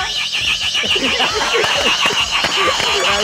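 A human voice imitates a cicada with a loud, rapid, pulsing buzz that carries a bright rasp and continues steadily throughout, close to the microphone.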